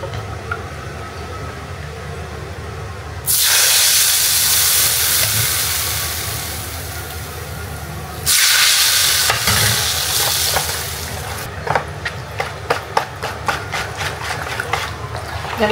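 Battered taro (keladi) pieces frying in hot oil in a wok, with loud bursts of sizzling as new pieces go in, easing between additions, then scattered crackles and stirring clicks near the end.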